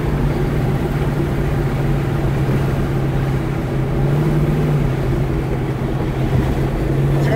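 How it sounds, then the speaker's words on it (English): A 1968 Dodge Charger's engine drones at a steady, low rumble on kickdown, swelling slightly midway. It sounds close and continuous, mixed with some wind-like noise. "If you kick it down right now, will it drop shift into second gear automatically?"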